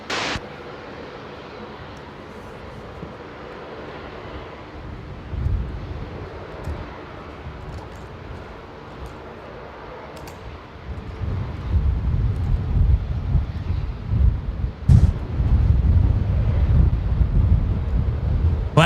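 A Western Global Boeing 747 lands at Brisbane Airport on runway 19 left in gusty wind, a low jet rumble swelling and growing louder through the second half under heavy wind buffeting the microphone.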